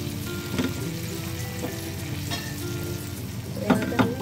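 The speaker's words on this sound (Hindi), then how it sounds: "ब्रेड को डाल देंगे बटर के ऊपर। इसको फ्राई कर लेंगे।" Bread slices frying in butter in a pan for a milk toast breakfast, a steady close sizzle with a few brief clinks and scrapes from stirring, no voices.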